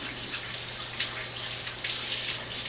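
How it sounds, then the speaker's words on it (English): Hands rinsed under a running tap in a kitchen while baking cookies, a soft steady splashing hiss with light drips, quiet and close. "let me rinse my hands real quick."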